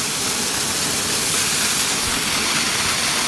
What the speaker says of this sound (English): this is on the base of this magnificent waterfall coming from the archway